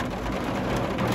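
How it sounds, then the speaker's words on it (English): Heavy rain pours steadily and loudly during a large storm with hail and a tornado watch, a dense, continuous wash with no break. "Rain and hail and tornado"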